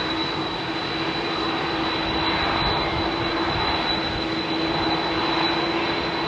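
A United jet airliner's engines roar steadily at London Heathrow Airport during departures from runway 27R, a constant loud rumble with a thin high whine and no voices.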